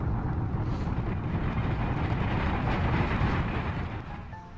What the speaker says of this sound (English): that was the best fucking train ride ever.